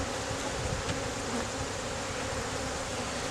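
Honey bees hum steadily in an open hive while a smaller colony is being prepared for winter, a dense, continuous buzz heard close up with no talking.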